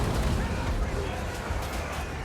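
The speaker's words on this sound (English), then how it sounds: "we are able to bombard them with our mortars" Mortar bombardment in the strategy game Total War: Warhammer 3, a dense continuous rumble of booming artillery blasts and explosions layered under battle noise, loud and sustained.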